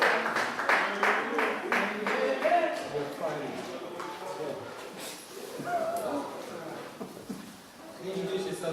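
Audience at a youth gathering claps to welcome a helper, a burst of rapid hand claps fading after a few seconds, followed by a voice talking.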